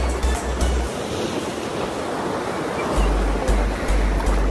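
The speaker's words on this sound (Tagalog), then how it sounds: "Lakas ng alon dito." Strong ocean waves crash and roar steadily up close at Josefina Beach Resort, with a constant rush of surf and a few heavier breaks, buffeted by wind noise.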